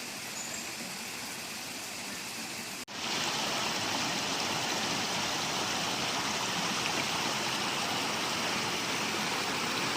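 Clear mountain stream in a forest, flowing water rushing with a dense, steady hiss that grows abruptly louder and nearer partway through, then continues unbroken with no voices.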